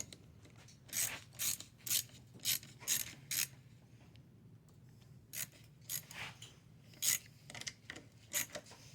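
Small screws being tightened into the carburetor of a Homelite Trimlite weed eater, heard as a series of short, close rasping and ratcheting bursts in uneven clusters with brief pauses between turns.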